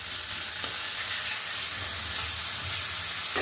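Garlic, cumin and ginger pastes sizzle steadily in hot oil with onions in a pan, a continuous close frying hiss with soft stirring scrapes throughout.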